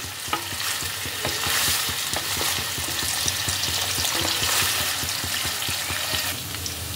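Paneer cubes frying steadily in hot oil for a dhaba-style matar paneer, a dense continuous sizzle broken by repeated close scraping and stirring taps of a spatula, with no talk.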